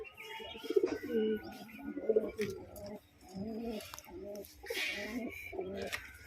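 Pigeons in a breeding loft coo in soft, repeated throaty bursts close by, with faint chirps and a little background noise between calls.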